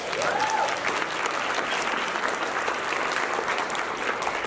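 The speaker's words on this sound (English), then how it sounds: "Another round of applause." Sustained applause from an audience at an institute's tenth anniversary celebration, a dense, steady wash of clapping that holds evenly from start to finish with no voices over it.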